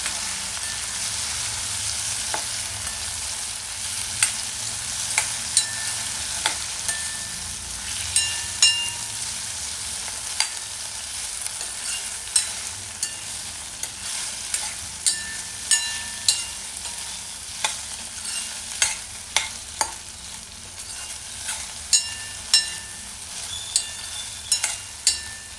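Okra sautéed in a pan for a mixed leafy vegetable dish, a soft steady sizzle broken by repeated sharp spatula taps and scrapes that grow more frequent over time, with no talking.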